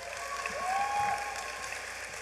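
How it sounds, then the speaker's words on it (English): Applause from the audience at a Baltimore Design School class of 2021 graduation ceremony, a steady, moderately distant clatter of clapping with a faint whistle through it. "Give yourselves another round of applause"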